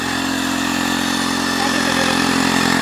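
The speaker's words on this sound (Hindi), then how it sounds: "ये देखो दोस्तों मिट्टी मिट्टी का बवंडर उठा दिया मशीन ने" A back rotary power weeder tiller runs at a steady, loud engine drone close by in a Punjab farm field, a continuous buzzing hum with a slight rise toward the end and no talk.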